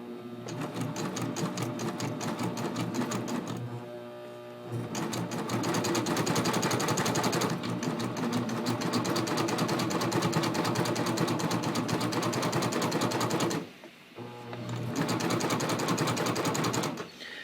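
A triple cover stitch sewing machine hems a garment neckline, running in a loud, close, rapid mechanical whir that pauses briefly twice before starting up again, with no talking.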